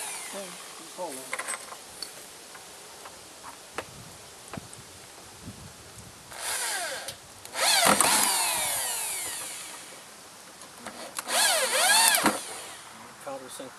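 Power drill countersinking screws into wood, several short whirring bursts spaced out over a quiet workshop background, with the strongest runs near the middle and end and a voice speaking in between.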